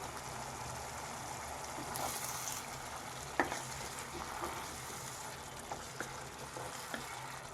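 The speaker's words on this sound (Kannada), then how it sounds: "ಇಲ್ಲಿ ಮಸಾಲೆ ಫ್ರೈ ಆಗ್ತಿದೆ." Masala for dhaba-style egg kadai frying in a pan, a steady soft sizzle with a few faint spoon clicks against the pan, heard alone and close.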